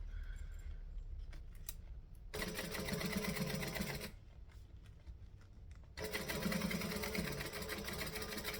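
A sewing machine stitches a curve on a bag in two distinct runs of steady, buzzing motor whir, each lasting a couple of seconds, separated by quiet pauses with small handling clicks.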